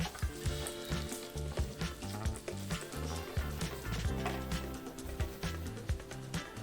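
Anchovies and dried shrimp frying for XO sauce crackle and sizzle loudly and steadily in oil while a utensil scrapes and stirs through them in an uneven rhythm, close up, with no speech.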